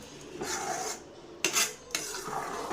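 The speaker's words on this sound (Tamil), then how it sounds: "ஸ்டவ் ஆஃப் பண்ணிவிட்டு நல்லா கிளறி விட்டுக்கலாம்" Ven pongal made with ration rice is stirred in a pot off the stove, giving close, scraping rasps of a spoon against metal in a few quick strokes with short pauses.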